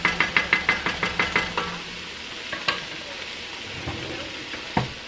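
A spoon scrapes rhythmically through onion, garlic and celery in a pot, a quick run of stirring strokes over a soft sizzle, then a few scattered knocks as the mix settles.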